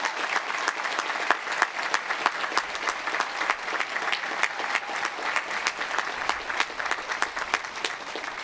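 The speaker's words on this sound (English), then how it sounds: "Yes, please applaud." Steady applause from a large audience at a university commencement ceremony, many hands clapping in a continuous crackling wash with sharp individual claps standing out, sustained evenly throughout.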